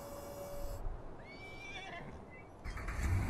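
A horse in Farming Simulator 19 gives a clear, close whinny with a rising then wavering pitch, set against low engine and vehicle rumble that cuts out and then returns louder at the end.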